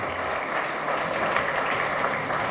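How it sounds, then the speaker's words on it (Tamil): A large audience claps continuously at a devotional gathering, producing a dense, even wash of applause with no voices over it. "அவங்களுக்கு நம்ம நல்லாவே கைத்தட்டலாம்"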